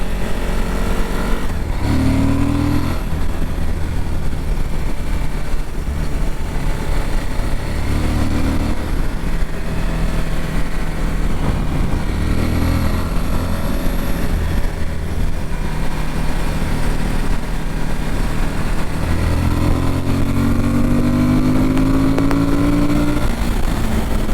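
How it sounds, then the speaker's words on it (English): A Suzuki V-Strom 1050 motorcycle engine drones steadily while being ridden along a twisty road, with pitch rising and falling through repeated shifts and throttle changes and wind rush beneath, loud and close throughout. "Bike is very, very fun to ride on roads like this."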